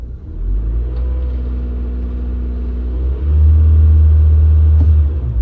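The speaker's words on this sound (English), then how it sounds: "So here it is, idling. If I give it a little bit of gas," A car engine idles steadily with a low rumble, then is given gas and revs up to a louder, higher, sustained drone close to the microphone.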